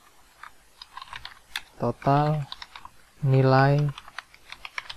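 Typing on a computer keyboard while building a laundry application in Excel VBA: a steady patter of light key clicks throughout, with someone speaking briefly over the typing.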